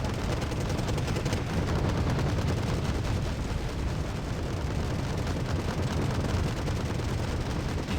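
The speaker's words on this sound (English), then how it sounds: "Cluster bombs to come in." A cluster bomb strike in the Wargame Red Dragon strategy game, a continuous loud barrage of rapid overlapping blasts and crackling detonations that runs steadily throughout.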